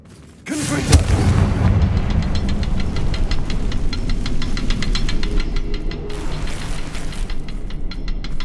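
Confringo fire spell cast in the video game Hogwarts Legacy: a sudden loud blast that swells into a sustained roaring, crackling rumble lasting several seconds, with no talking.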